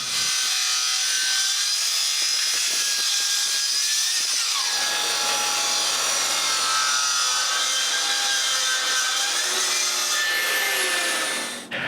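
A power saw makes 45-degree cuts through wood panels for a staircase secretary desk, a loud continuous whine and rasp with shifting pitch, close by and without pause.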